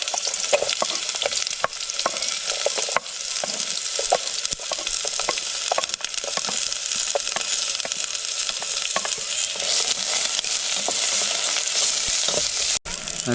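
Onion and garlic sizzle loudly in a hot pan at an outdoor camp cookout, a dense continuous frying hiss broken by frequent stirring scrapes and clacks, close up with no talking.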